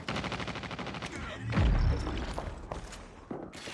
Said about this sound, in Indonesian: Ada yang nembakin dari atas.